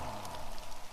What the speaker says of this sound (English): the rain continued. A little stronger now.